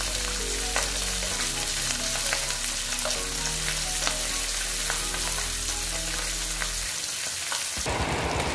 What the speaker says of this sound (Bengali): দেখো পাঁচটা দিয়ে দিলাম, পাঁচটা ভেজে নিচ্ছি।